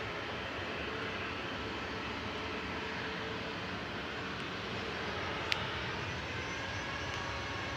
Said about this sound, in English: Ryanair departing next to Madrid with flight 3187